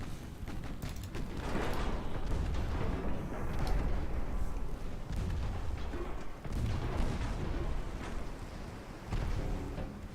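Naval shell fire in the warship game Ultimate Admiral Dreadnoughts: dense, continuous booming of many guns firing at once, heavy and rumbling with overlapping blasts and no pauses throughout.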